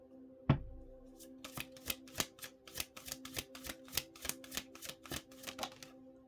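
Tarot cards shuffled by hand: one sharp tap, then a steady series of crisp riffling flicks repeating evenly, close and fairly quiet, with no talking.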